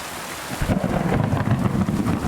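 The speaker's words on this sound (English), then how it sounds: "that thunder is so loud" Thunder rumbles loudly under steady heavy rain in Kingdom Come: Deliverance 2, a dense low roar that swells after a quieter start and holds strong to the end, with no voices.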